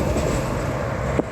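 A three-engine freight locomotive lash-up on an Australian steel train rumbles steadily nearby close to a refinery, a continuous low drone with one brief sharp knock near the end.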